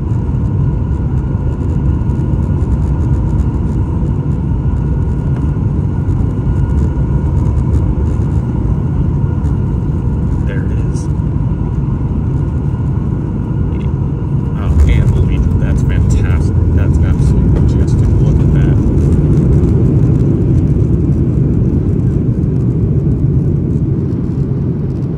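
A Southwest Boeing 737-800 lands on runway 22 at Houston Hobby airport, heard from the cabin as a loud, steady engine and airframe roar with a rumble as it touches down.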